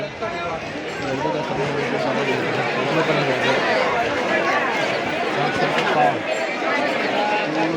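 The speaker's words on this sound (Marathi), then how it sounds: "मंदिर परिसराच्या मेन रोडवर बघा समोरच आपल्याला मंदिर दिसत आहे गर्दी बघा किती आहे" Huge crowd of devotees on the main road near the Pandharpur temple on Ashadhi Ekadashi, a steady dense babble of many voices with someone talking close over it.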